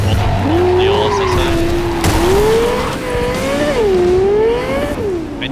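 In Cyberpunk 2077, a car engine drones loudly while its tires squeal in long, wavering skids that rise and fall over several seconds, with a brief thump partway through.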